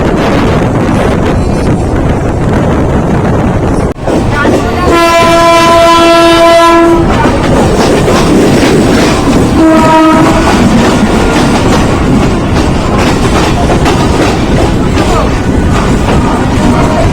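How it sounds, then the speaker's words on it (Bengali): A Sealdah–Kalyani Simanta local train on Eastern Railway comes into Barrackpore station with a loud, steady rumble and wind buffeting. A long horn blast sounds, then a shorter one a few seconds later. "এখন আমাদের ট্রেন এসে রয়েছে হচ্ছে ব্যারাকপুরে"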